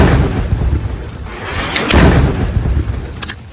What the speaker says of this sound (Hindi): पहले ड्रोन आकर गिरा, धमाका हुआ